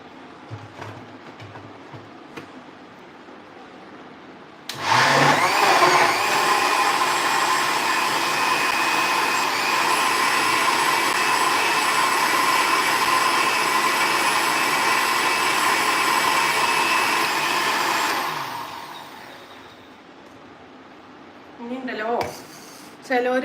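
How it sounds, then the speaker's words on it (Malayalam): A loud electric mixer grinder blending milk with ice cream for a cocktail drink whirs steadily for about thirteen seconds, then winds down and stops; faint voices are heard before and after. "ഇനി നമുക്ക് മിക്സിയിൽ ഒന്നും കൂടി ഒന്ന് നോക്കിയെടുക്കാം"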